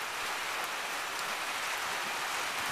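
Steady rain falling in flooded woods, a dense, even hiss of drops on water and leaves with occasional sharper patters, constant and close, with no voices.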